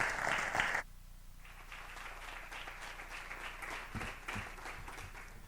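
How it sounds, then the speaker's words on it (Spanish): Audience at a European summer course award ceremony in Navarra gives applause. A loud burst of clapping cuts off abruptly, then softer, more distant clapping continues and swells again, with some faint voices underneath. "Un fuerte aplauso."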